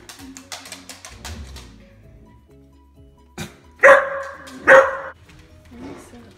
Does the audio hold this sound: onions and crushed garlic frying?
no